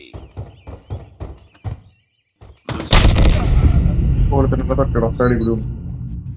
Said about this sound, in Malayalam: പണ്ടാറം ബോംബ്